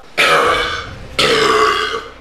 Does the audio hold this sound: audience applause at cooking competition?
no